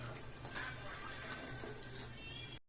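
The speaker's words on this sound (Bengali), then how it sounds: "ঝোলটা ভালো করে ফুটে গেছে" Fish curry gravy of ground spices bubbling and simmering in a pan, a steady close, dense seething with small pops throughout, ending abruptly.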